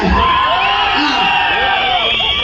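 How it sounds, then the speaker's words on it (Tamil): A large crowd at a Tamil political rally roars with overlapping cheers, whoops and shouts, loud and continuous throughout. "இங்க சிங்க பெண்கள் அதிகமா இருக்கீங்க, ஒரு கைத்தட்டல் கொடுங்க"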